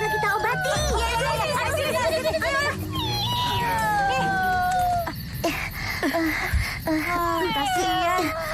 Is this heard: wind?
no